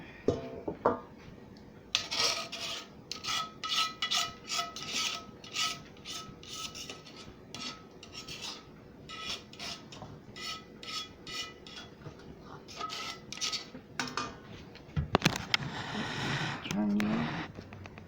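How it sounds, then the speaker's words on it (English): Metal utensils scrape and rasp against a skillet while shrimp spaghetti is dumped out, with repeated clattering pan and cutlery sounds in an irregular rhythm, under occasional talking and a louder clang near the end. "Then I'm going to get the skillet and dump it in."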